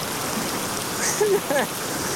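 Heavy rain pours down steadily outdoors, a broad, even wash of noise filling the short stretch, with a couple of brief tonal chirps rising over it near the middle.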